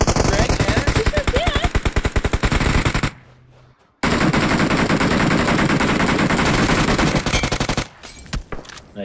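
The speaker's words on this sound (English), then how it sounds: "Oh, I got sniped." Dense bursts of automatic rifle fire from PUBG Mobile rattle on loud and close, stop for about a second, then resume before fading to a few scattered shots, with voices beneath.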